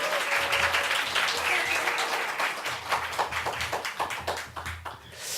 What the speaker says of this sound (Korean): 박수 한번 쳐도 괜찮은.